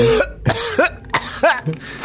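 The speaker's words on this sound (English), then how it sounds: "the tunnel is just filled with dust and debris, and you hear coughing" A person coughing in a tunnel filled with dust and debris: a rapid series of four or five loud, close, harsh coughs with throat-clearing rasps, alone without talk.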